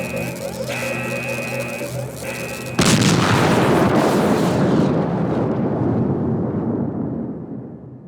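Overcharged energy core in the game Last Days of Lazarus detonates: after a steady tonal hum, a sudden loud broadband blast hits and rumbles on, slowly decaying over several seconds.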